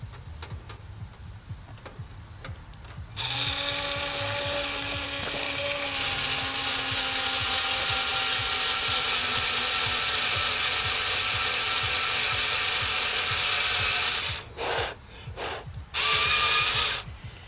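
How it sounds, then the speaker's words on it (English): A powered driver sets self-tapping screws into the sheet-metal panel of a heat pump during a defrost control install. A loud, close whirring grind runs for about eleven seconds after some faint clicks, then breaks into short stop-start bursts. "now we're going to have to use these self-tapping screws to get this thing in there"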